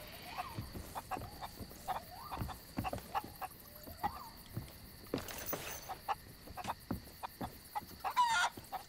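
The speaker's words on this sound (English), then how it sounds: "Chickens over here." Chickens cluck close by in a steady stream of short, repeated calls, with one louder squawk near the end, over quiet outdoor background.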